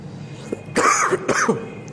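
A person clears their throat and coughs in a few short, harsh bursts close to the microphone, separated by brief pauses, with a faint room hum beneath.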